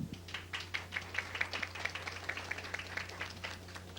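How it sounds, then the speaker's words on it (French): A small audience at a storytelling event claps: a faint, sparse scattering of individual hand claps that keeps up steadily for a few seconds over a low background hum. "On l'applaudit bien fort."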